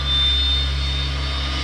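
A Twin Otter turboprop engine spools up in a flight simulator with a steady, high turbine whine over a low rumble, heard alone at moderate loudness.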